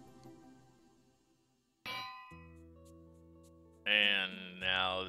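Metallic clang of an anvil being placed in Minecraft, a sudden ringing strike with tonal decay, followed by bright clanking tones, heard alone without talk.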